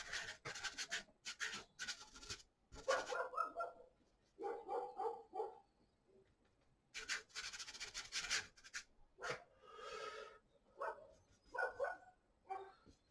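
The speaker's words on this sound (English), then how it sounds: "oh, dogs talking to each other." Dogs bark back and forth outdoors in uneven bursts, some sharp and some muffled, moderately close, with scraping rubbing noises between them.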